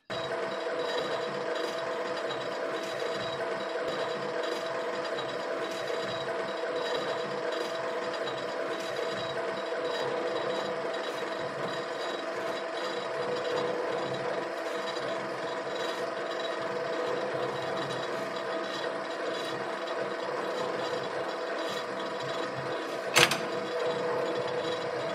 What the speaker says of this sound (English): Cranking the machine, then selecting the cylinder.